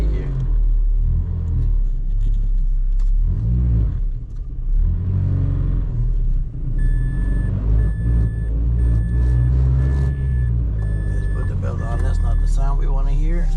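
A Mazda 3 engine with worn engine mounts runs with a heavy, low rumble and some revving, close up, under someone talking.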